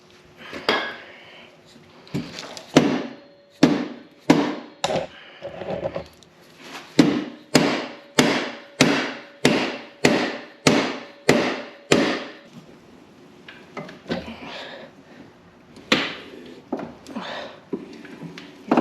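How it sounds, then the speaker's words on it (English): A dead blow hammer strikes metal again and again in a steady rhythm while replacing bearings on a Honda Big Red ATV, about two dozen sharp, ringing blows, close by, with a brief pause partway through. "turning that as I'm whacking it with the dead blow from the back"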